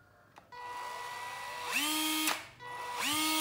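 Cordless power drill tested in hammer mode, whirring up to speed in two close, loud runs that ramp up sharply, hold a steady high-pitched whine with a rapid hammering buzz, then stop.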